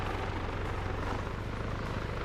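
A helicopter in a video game, just hit by ZU-23 anti-aircraft fire, gives off a loud, continuous rotor drone with a deep, steady throb, close and alone.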